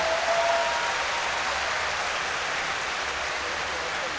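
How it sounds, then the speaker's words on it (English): Crowd applause in an arena at the European Weightlifting Championships, men's +109 kg, after a failed snatch: a continuous, even wash of clapping that swells at the start and then holds steady. "Gets a nice applause."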